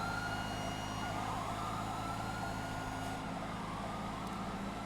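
Police car siren in the FiveM video game, a steady wailing tone that sweeps up and down, loud and close, over continuous engine and road noise with no talk.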